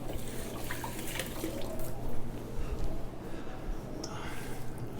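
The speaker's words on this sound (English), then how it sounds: "wet my hands a little" Hands being wetted with water while shaping ciabatta dough, a faint wet splashing and trickling at close range, steady and low over light background noise.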